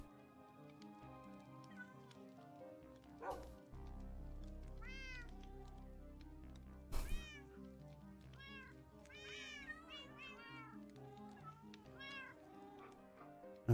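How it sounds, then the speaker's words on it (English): Cats meow again and again in a Minecraft Bedrock game, a run of rising and falling mews and drawn-out yowls layered over a low musical background, with a couple of sharp loud bursts. "Are the cats too much?"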